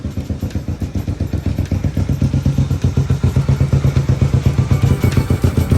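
A 1974 Honda CB450 motorcycle engine runs steadily after carburetor work, its loud, close, rapid pulsing firing rhythm continuing evenly throughout with no talk.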